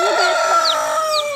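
Baby chicks on an off-grid homestead chirp steadily. High, thin peeps repeat over a continuous close chorus, fairly loud, with no talking.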